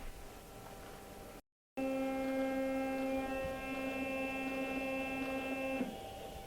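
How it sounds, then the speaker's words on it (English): A CNC router motor whines steadily as the machine jogs its cutter toward a corner reference point, a sustained tonal drone after a brief cut-out, ending abruptly near the close. "So I'm just going to jog the machine over to there to zero the cutter to that point."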